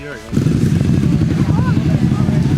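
Pit bike engines arrive at a private track with a loud, buzzy, choppy motorcycle engine drone that starts abruptly and runs close for a couple of seconds while people talk over it.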